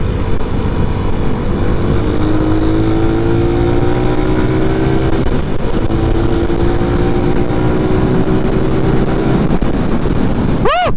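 A 2021 carbureted Suzuki Raider 150 motorcycle on a test ride, its engine loud and continuous with rising and falling revs through the gears, heavy wind rush throughout, ending in a sharp high rev sweep.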